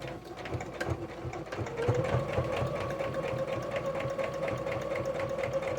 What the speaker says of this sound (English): We're going to stitch as close to that ditch as we can